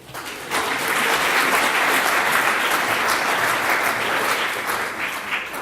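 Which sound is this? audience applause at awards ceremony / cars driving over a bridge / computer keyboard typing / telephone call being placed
audience applause at awards ceremony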